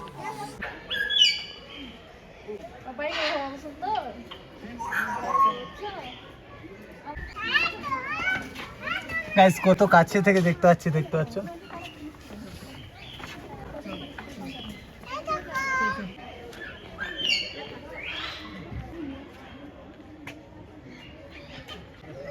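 Birds in a zoo aviary at Darjeeling chirp and squawk intermittently beneath near, continuous talk and lively children's voices.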